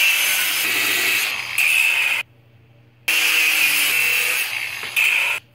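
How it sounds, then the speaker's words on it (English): A cutoff blade slices notches into a drive wheel with a loud, harsh high-pitched grinding whine in two long bursts separated by a short pause. "Need to put some kind of groovy notches in there. It's just a slice with the cutoff blade."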